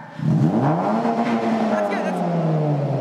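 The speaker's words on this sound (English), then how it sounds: "Rev the exhaust." A 2011 Honda Civic Si engine with a Skunk2 exhaust revs sharply, its throaty exhaust note rising quickly, then holding at a high, loud drone close to the listener.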